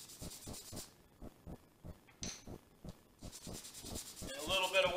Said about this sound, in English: these are just the right size to do a quick surface sanding on a 220 grit sandpaper